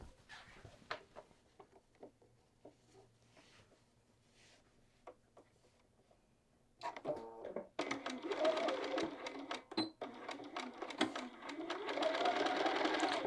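A sewing machine sews the body of a field bag. Quiet handling and light taps come first, then the machine starts up halfway through with a close, steady whirring clatter in a few runs, with a dog barking faintly somewhere.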